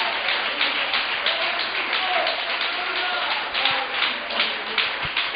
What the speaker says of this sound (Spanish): Dele un aplauso a Dios bien fuerte